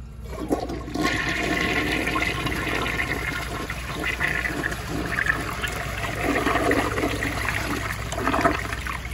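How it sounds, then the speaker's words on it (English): A 1977 round Vitromex toilet flushes with a strong, steady rush of swirling water, close and continuous for several seconds with gurgling throughout; no voices. "This thing actually has a really cool flush"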